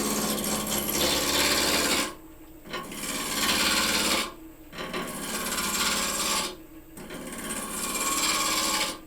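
Wood spins on a lathe while its square corners are rounded off, a loud, continuous rasping scrape close by, broken by three short pauses.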